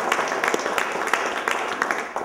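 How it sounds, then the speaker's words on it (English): A crowd at a press conference applauds in uneven, moderately loud clapping, with a voice speaking over it. "Eric Winalda, give him a round of applause."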